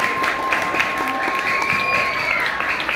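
A school student council debate audience breaks into lively applause, a loud sustained mass of clapping with some crowd noise, an announcer's voice and a whistle-like tone running through it.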